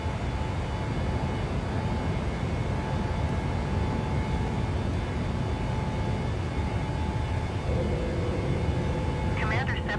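Light aircraft, a Commander, climbing out after takeoff with the gear retracted in a crosswind, its engine giving a loud, steady broadband drone throughout, with a pilot talking over it.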